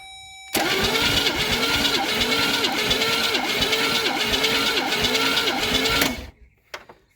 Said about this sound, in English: I'm going to attempt to crank it over